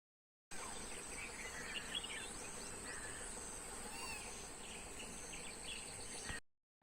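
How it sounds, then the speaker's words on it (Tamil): Faint outdoor morning ambience at sunrise, with steady insect-like trilling and scattered small bird chirps over a soft hiss, continuous and distant. "அந்த பறவைகள் சத்தத்தோட அந்த சத்தம் நீங்கள் கேட்கணும்"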